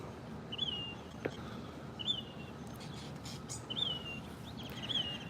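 Small birds chirping outdoors in hot Phoenix weather near shaded seating and tennis courts, giving four short, thin high calls spaced about a second and a half apart over steady low background noise.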